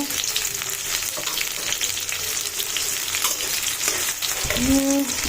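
Chopped onion and chili, fried with garlic in a pan for a cabbage and dried shrimp dish, sizzle steadily while a spoon scrapes and stirs them, with clinks of utensil against the pan near the end.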